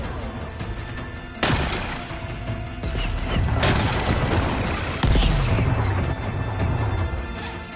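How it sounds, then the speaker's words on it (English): A power cell blowing up during a machine fight in Horizon Forbidden West: several loud, close crashing explosions with heavy booming bursts and debris rumble, erupting in succession over a dense game soundscape. "It's working! Exploding."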